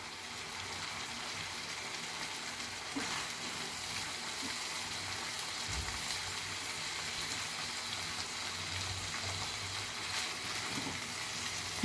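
Tiger prawns being stirred in a sizzling masala in a pan: a steady soft frying hiss with occasional scraping stir sounds, close and fairly quiet, no talking.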